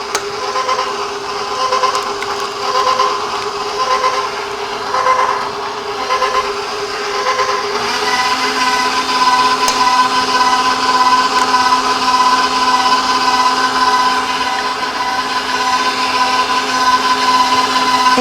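Electric mixer churning poppy seed bread dough, a loud, steady motor whine that shifts to a higher pitch partway through and keeps running for the whole stretch.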